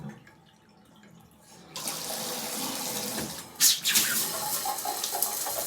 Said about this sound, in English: the water is just going straight down into the tub